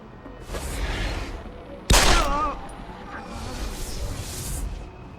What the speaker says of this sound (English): What the hell is going on? Fucking gunshots!